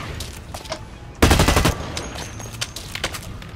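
Gunfire in the online shooter Blacklight Retribution: a brief loud burst of rapid automatic shots over ongoing game ambience and scattered softer shots, with no talking.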